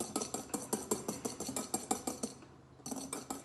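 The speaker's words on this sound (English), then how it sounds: "And then we have to whisk that back in." Chocolate mousse mixture is whisked briskly in a bowl, metal tines clinking against the sides in a fast, regular rhythm of sharp taps, pausing briefly before the strokes resume.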